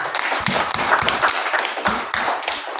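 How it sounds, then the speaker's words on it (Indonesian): Classroom applause from students in an Islamic studies lesson, a dense continuous patter of many hands clapping for the full stretch, fairly close, with no talk over it. "Beri dia tepuk tangan."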